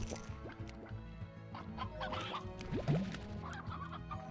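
Chickens in the Slime Rancher video game cluck and squawk in short bursts over a steady background hum, with one sharper rising call near the middle; no one speaks.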